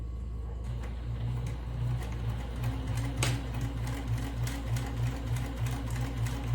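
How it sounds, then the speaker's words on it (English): A sewing machine runs steadily while stitching a mini purse, a close, continuous mechanical whir with a fast regular needle rhythm and no talking. "I'm going to start to sew."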